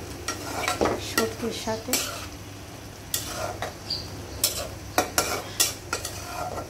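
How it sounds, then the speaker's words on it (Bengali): A dried fish and potato curry is stirred and fried in a pan with garlic paste, a spatula scraping in bursts over a steady low sizzle, with one brief spoken word. "একটু কষিয়ে নিচ্ছি।"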